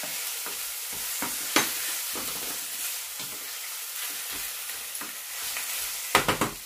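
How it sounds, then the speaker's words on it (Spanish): Diced potato goes into a pan where onion and garlic are already sautéing, giving a steady close sizzle of frying broken by clattering stirs and scrapes, with a louder cluster of knocks near the end. "Ahora la cebolla y el ajo ya han empezado a coger color. Voy a echar la patata."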